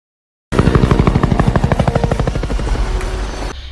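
A helicopter in the film Aliens vs. Predator: Requiem bursts in after a brief silence, its rotor chopping loud and rapid in an even, steady beat before cutting off abruptly at the end.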